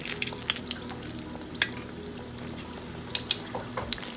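Pakoras fry in hot oil in a wok with a soft, steady sizzle and sporadic sharp crackles and pops, faint and close with no voices.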